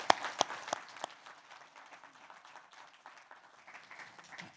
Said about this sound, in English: And I want to take another applause for them.